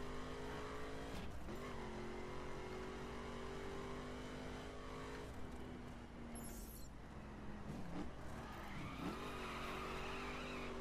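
A car driving through the city of St. Louis in the racing game The Crew Wild Run, steady engine drone with shifting pitch as it revs and changes gear, plus brief tire squeals, loud and continuous.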